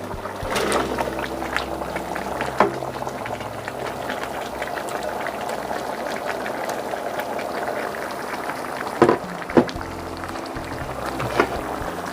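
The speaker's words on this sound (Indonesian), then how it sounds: "Saya masukkan kentang yang sudah digoreng." Fried potatoes tipped into a large batch of simmering sambal goreng in a big pot, giving a continuous bubbling sizzle with a few louder thuds and scrapes of stirring.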